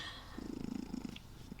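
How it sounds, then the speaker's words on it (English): A cat purrs softly in a quick, rhythmic pulse of low rumbling breaths, faint and alone with no talking. "having a cat purring in the background might help"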